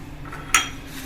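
A spoon knocks once against a pot while stirring ingredients for arbi curry, a single short clink over a faint background.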